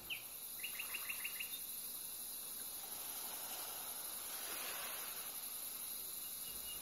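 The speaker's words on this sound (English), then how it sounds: "Insect sounds." Insects chirp at night in a constant high, shrill drone, with brief bird-like chirps near the start.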